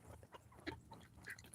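Americana chickens clucking in a farmyard flock, a few soft short clucks scattered across a brief, quiet moment.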